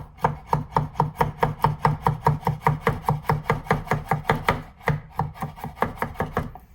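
A chef knife chops food on a board in a fast, steady rhythm of crisp close knocks, about four per second, pausing briefly near the end before resuming, with no talking.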